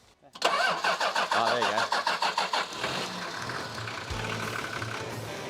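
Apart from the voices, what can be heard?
old Land Cruiser engine cranking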